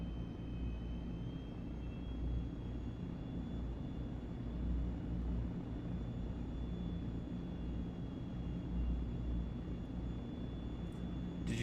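A Cessna C160 engine drones steadily in Microsoft Flight Simulator 2024 as the aircraft descends with power pulled back, a constant low hum with a faint high whine and no talk.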